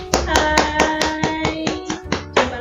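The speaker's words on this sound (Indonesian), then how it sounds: "Tepuk tangan." Rhythmic hand clapping, about ten crisp claps in a steady beat over roughly two and a half seconds, close and fairly loud with a faint tonal backdrop.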